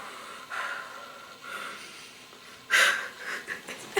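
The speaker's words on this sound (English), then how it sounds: "You're starting to snore." A young person snores softly, with a few breathy, snorting inhales repeating at an irregular pace; the loudest snort lands near the end, and the sound stays close and fairly quiet.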